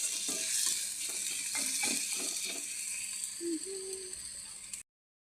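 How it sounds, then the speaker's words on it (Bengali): Tomatoes and ginger fry in a pan with a faint sizzle beneath a series of quick scraping stirs and clicks, the activity close and fairly quiet before stopping abruptly. "আদা ভাজা হয়ে গেছে বন্ধুরা, টমাটার দিয়েছি, টমাটারকে ভালো মতন ভেজে নিতে হবে।"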